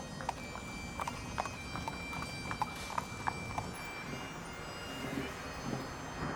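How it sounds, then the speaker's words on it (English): Hooves of a riderless horse in a funeral procession clip-clop faintly and evenly, several spaced hoofbeats over a quiet outdoor background with a distant airplane hum. "A horse known as Blackjack went riderless with boots reversed, the symbol of a fallen officer"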